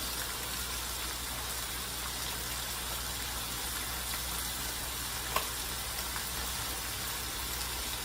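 Shrimp and chicken fry in a pan for keto Tuscan garlic shrimp, giving a steady, close sizzle that holds even for the whole stretch, with one small sharp tick partway through and no talking.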